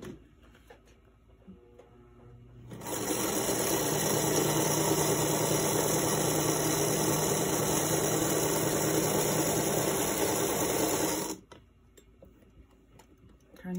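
A sewing machine stitches across a paper page in one continuous run of about nine seconds, a loud, rapid, even mechanical chatter close by that starts and stops abruptly, with quiet handling before and after.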